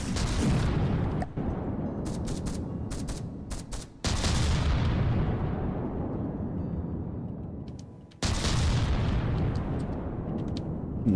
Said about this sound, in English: Why is the tracer firing in bursts?